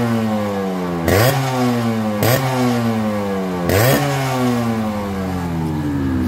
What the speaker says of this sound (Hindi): स्ट्रोक सुनाओ गाड़ी के